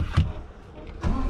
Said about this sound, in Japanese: これでエンジンがかかるといったところですね。